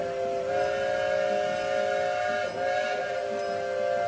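A restored steam locomotive with a new steam boiler, an engine from Venice, California, running in an outdoor holiday parade, sounds a long sustained multi-tone whistle that holds steady for several seconds over a rumbling background.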